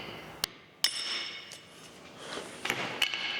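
Sharp metallic taps from a hammer striking a steel guillotine tool part made from scrap metal in a blacksmith shop, four separate hits spaced irregularly with quiet background between.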